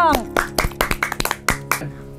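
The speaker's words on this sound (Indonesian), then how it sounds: "Oke, tepuk tangan dulu dong." A family gives a short round of hand clapping for a grandfather's 64th birthday greeting, about a dozen sharp claps close by in an uneven rhythm, with voices mixed in.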